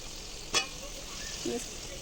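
Onion and garlic paste frying in a pan for a shrimp curry: a close, steady soft sizzle with a brief clink of a utensil and faint stirring.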